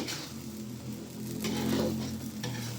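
Vegetable capcay stir-fry being stirred in a hot pan, a steady close sizzle and frying hiss with scraping stirring motions throughout, no voices.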